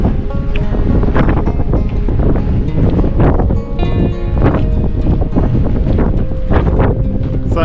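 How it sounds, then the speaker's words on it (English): Strong, cold wind buffets the microphone in continuous gusty roaring at Uluru in central Australia, loud and close, with no voices. "it is suddenly windy and the wind is cold"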